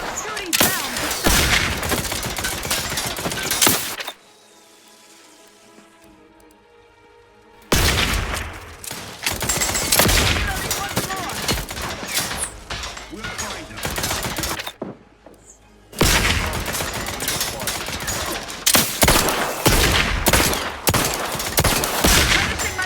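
Rapid gunfire in The Outer Worlds 2, with dense, loud bursts of repeated shots and thuds that break off for a few seconds twice before the firing resumes.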